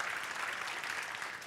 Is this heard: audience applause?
yes